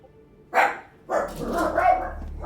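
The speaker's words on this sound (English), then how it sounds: "dogs going crazy in the background" Dogs bark in the background: one sharp bark, then a longer run of excited barking and yipping over a steady low hum.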